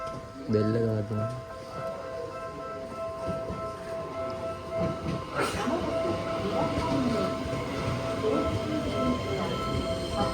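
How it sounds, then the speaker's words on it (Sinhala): A commuter train pulls into a station in Japan with a steady, building rumble of wheels on rails, a brief tonal chime early on and people talking over it. "දැන් අපේ ට්‍රේන් එක එනවා."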